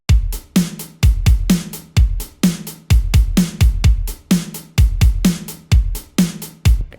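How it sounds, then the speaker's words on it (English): Acoustic drum loop for a progressive house track, with a punchy kick, snare hits and hi-hats layered together in a steady, loud repeating pattern of sharp bright transients. No voices. "Along with hi-hats."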